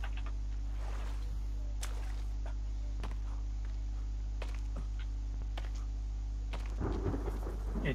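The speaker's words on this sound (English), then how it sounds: "It's raining, my dudes." Steady rain hiss with occasional sharp crackles and rumbles of thunder inside the survival game The Forest, a constant wet wash running throughout with a louder burst near the end.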